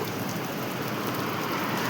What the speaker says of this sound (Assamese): এনেকৈ পানী পৰি আছে